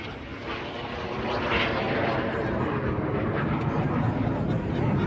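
A Red Arrows jet roars through a flying display run at an air show, a loud sustained engine rumble that swells slightly as it passes, with a commentator talking over it.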